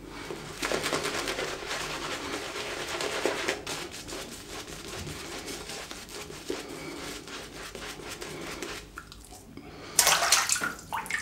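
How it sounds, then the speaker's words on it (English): Water splashes and churns in a shaving bowl as a brush whips up soap lather, a steady close wet swishing for several seconds that ends in a brief louder splash. "I threw a good amount of water into the bowl there when I was creating the lather"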